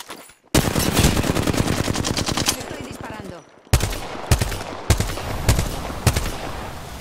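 Loud automatic gunfire in the battle royale game Apex Legends, a long rapid burst followed by shorter separate volleys and single shots at close range, with no speech.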